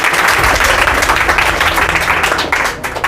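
Steady, dense applause from a large indoor audience at a school ceremony honouring first-division students with medals. The clapping is loud and continuous for about three seconds, then begins to thin out.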